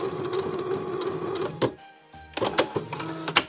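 A sewing machine stitches the seam of a Christmas decoration, a close, steady mechanical whir that stops briefly in the middle, then resumes with a few short bursts of backstitching.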